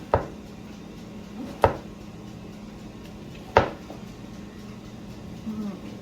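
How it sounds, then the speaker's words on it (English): A knife cuts mushrooms into thin slices on a board, with three separate sharp strikes spaced apart over a quiet kitchen background. "And we're going to be doing mushroom. So again, we're gonna do nice, thin, thin, thin slices."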